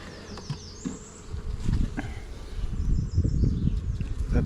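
Honey bees swarm and buzz around an open hive during an inspection, a dense, continuous drone close to the listener that swells louder and fuller toward the end, with faint rustling beneath.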